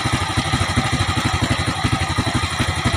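A motorcycle engine idles steadily while its carburetor is being tuned, a close, even, pulsing chug with a clattery beat and no talk over it.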